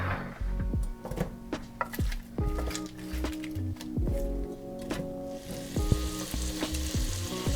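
Roasted vegetables go into a hot stock pot for lobster bisque and sizzle steadily, with stirring and a few clinks of pots under a tonal musical background.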